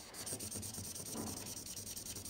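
A chisel-tip marker laying down colour in strips, soft rhythmic strokes of felt scratching across paper, quiet and close, repeating at a steady pace with no talking.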